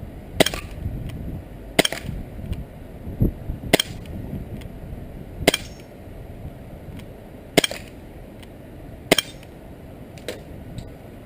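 Umarex Beretta APX CO2 BB pistol firing at metal spinner targets, seven sharp cracks spaced about every one to two seconds, each with a faint metallic ping, over a low steady background.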